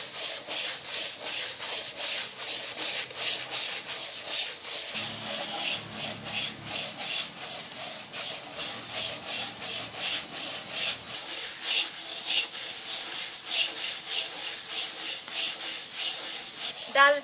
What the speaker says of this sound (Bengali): মুগ ডালটা খুব আস্তে আস্তে সাবধানে সুন্দর করে ভেজে নিতে হবে